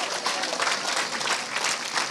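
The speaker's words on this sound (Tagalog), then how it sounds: "ituloy nyo na yung palakpak mga kapatid na malakas habang umuupo kayo" Church congregation applauding loudly and steadily as people sit down, a dense continuous clapping from a crowd that fills the whole moment.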